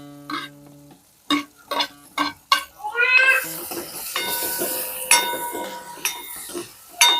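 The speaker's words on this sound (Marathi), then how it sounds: "मिरच्या पण चांगल्यात अशा तळून घ्यायच्या आहेत, म्हणजे मस्त त्याला परतवायचं आहे." Green chilies fry in a pan with tomatoes for poha, giving a bright, continuous sizzle and crackle with clinks of a spoon against the pan.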